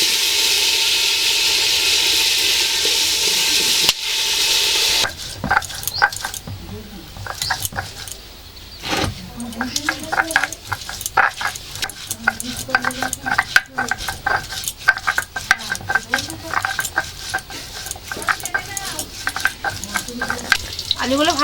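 Potatoes frying in oil in a pot for a home-cooked family anniversary meal, with sizzling broken by spoon stirring and pot clatter, under a steady hiss, with voices talking now and then.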